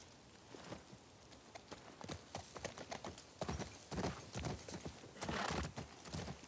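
Horse hooves clip-clopping in the video game The Last of Us Part II, a steady rhythmic gait of close, distinct hoofbeats over low ambient noise with no talk.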